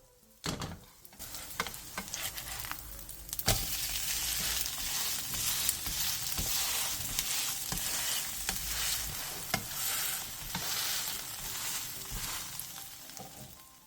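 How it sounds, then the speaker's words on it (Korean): A thin Korean chive pancake (buchujeon) pan-fries over medium-low heat, giving a continuous close sizzle, with scattered taps and scrapes of a spatula pressing it flat. "중약불에서 앞뒤로 노릇노릇하게 부쳐주세요"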